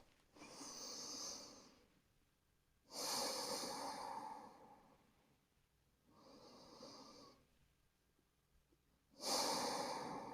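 Slow, deep yoga breaths fill the room in four long waves, each a soft, airy rush through the nose lasting a second or two, with quiet pauses between; close and gentle, no talking.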